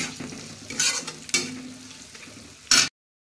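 Spices (cumin powder, Kashmiri red chilli powder and garam masala) being stirred into a kadai paneer curry base in a kadai pan, with a steady close sizzle and a few scraping strokes. The stirring bursts are louder, and no voice is heard.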